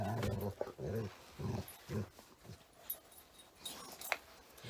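A service dog being brushed gives a series of short, soft whimpers and low grumbles, close but quiet, separated by brief pauses.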